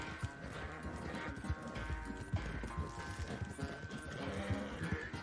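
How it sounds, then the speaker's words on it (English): Hooves of a tiring horse pounding rhythmically during a horse race in a video game, heard as a quick run of galloping clip-clops with faint background game sounds. "The horse is getting tired."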